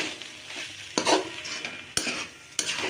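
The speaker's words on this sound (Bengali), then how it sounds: "দেখতেই পাচ্ছ বাঁধাকপি করতে টাইমও লাগে, আর একটু ভালো করে কষিয়ে কষিয়ে না করলে তো বাঁধাকপি ভালোও লাগে না।" Cabbage stir-fries in a pan with a steady close sizzle, broken by three loud scraping stirs of a utensil against the pan, roughly one per second, with no talking.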